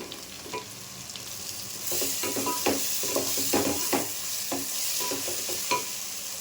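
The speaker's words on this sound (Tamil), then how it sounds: "ஒரு 8 பச்சை மிளகாய் சேர்த்துக்கலாம்" Green chillies sauté with loud, steady sizzling in a pan for katla fish curry, and a spatula scrapes and stirs in repeated clinks and scrapes throughout.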